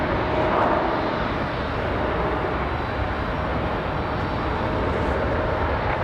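A departing airliner at Raleigh Durham airport roars steadily as a broad, loud jet rumble with a faint tonal whine, sustained throughout with no talk.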